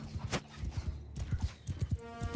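Horses' hooves clip-clop in the Bannerlord War Sails video game, a rhythmic run of low thuds close and steady, with a brief bright clatter and faint battle ambience behind.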